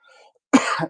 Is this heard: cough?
yes